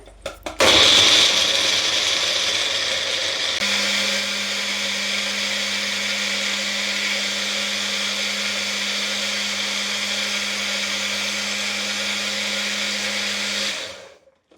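Blender grinding apple, beetroot and carrot into juice, a loud steady motor whine that runs unbroken for about thirteen seconds, dropping slightly in pitch partway through before cutting off, with no talk.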